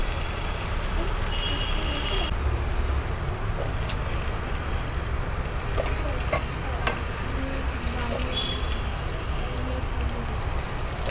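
Carrots, eggplant, peas, fresh chickpeas and beans tossed into hot oil in a pan sizzle loudly and continuously while a spoon stirs and scrapes, with children playing faintly in the background.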